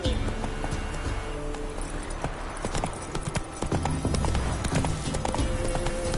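Roach, a video game horse, gallops with rapid clip-clopping hooves that stay loud and steady throughout, dense game ambience and occasional voice-like sounds mixed underneath.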